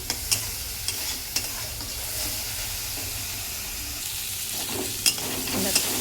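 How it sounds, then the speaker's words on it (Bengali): Mustard paste with salt and turmeric fries in hot oil for a tilapia curry, giving a continuous close hissing sizzle with occasional sharp scrapes and taps of a stirring spoon. "সর্ষেটা ভাজা ভাজা হয়ে গেছে"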